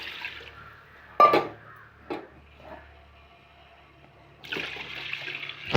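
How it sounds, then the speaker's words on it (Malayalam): Milk being poured into a pan of roasted vermicelli for payasam, a splashing pour heard in short bursts with quiet pauses between, close and fairly clear. "വെർമിസെല്ലി ഒന്ന് ചുവന്ന് വരുമ്പോൾ നമുക്കതിലേക്ക് പാലൊഴിച്ച് കൊടുക്കാം."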